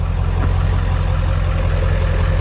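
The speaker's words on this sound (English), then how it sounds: "I think the engine is noisier than what the exhaust does for this thing." A Ford F-550 diesel engine idles with its exhaust removed, giving a steady, loud, low mechanical rumble up close with an unbroken even tone and no talking.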